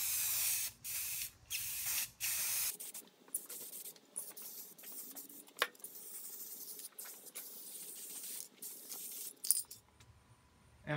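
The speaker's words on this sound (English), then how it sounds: "And now a coat of paint." Spray can laying a coat of paint on an Atlas 73 drill press part, short hissing bursts interrupted by pauses, with faint clicks between passes, close and alone.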